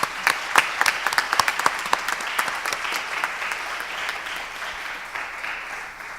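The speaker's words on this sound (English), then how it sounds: "give them a round of applause" An audience at the 2017 Palmetto PALS kick-off celebration claps for the event organizers: sharp, crisp claps at first that blend into a steady wash of applause and slowly thin out.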